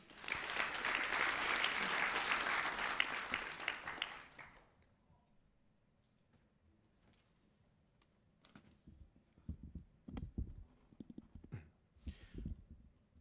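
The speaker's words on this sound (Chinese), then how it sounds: "掌声有请。" An audience at the 2017 Macau youth entrepreneurship and innovation competition final applauds loudly for about four seconds, then the clapping stops and scattered footsteps, shuffling and a few brief voices follow in the hall.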